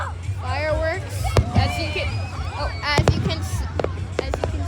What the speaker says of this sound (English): we got fireworks.